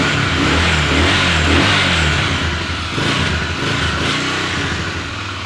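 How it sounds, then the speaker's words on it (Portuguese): Motorcycle with its original stock exhaust revving at close range, a steady loud engine rumble that swells and eases slightly without any speech. "Agora eu vou mostrar a vocês como que tá o ronco da moto original"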